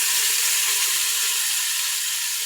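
Food sautéing in a hot pan gives a loud, steady sizzle that runs unbroken throughout with no talk.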